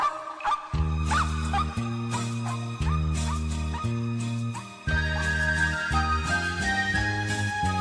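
Dog barks and yips come from a children's song with a steady musical backing, part of a church worship service.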